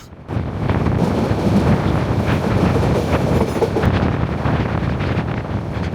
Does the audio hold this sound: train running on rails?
yes